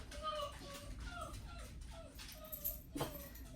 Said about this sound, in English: That's my dog Prince, and he really, well, my mother's dog. He really wants some attention right now.